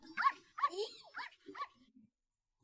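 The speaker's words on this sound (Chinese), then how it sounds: "他看到大黑对着一个小狗凶凶的大吼。" A dog, a large black one, barks fiercely at a puppy: several close, sharp barks in quick succession, then a softer growling yelp before quiet.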